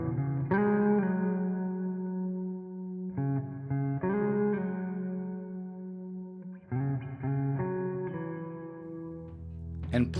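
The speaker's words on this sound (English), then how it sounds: "Chamber reverb." Electric guitar drenched in chamber reverb plays a repeating phrase of struck chords and single notes, each sustaining into a smooth, lingering wash, with a brief sharp click at the very end.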